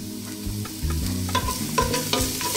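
Garlic frying in hot cooking oil in a pan while being stirred, a steady close sizzle broken by repeated scraping and clattering strokes of the utensil, with no talking.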